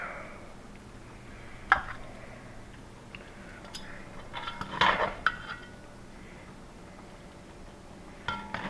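Pieces of roast pork leg are lifted out and set into a deep dish, giving sparse clinks and knocks of utensils against cookware, a sharper clatter near the middle and another at the end, over a quiet kitchen background.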